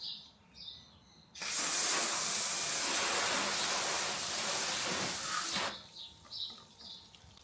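Carwash foam cannon blasting soap foam, one steady loud hiss lasting about four seconds, close, with quieter background noise before and after.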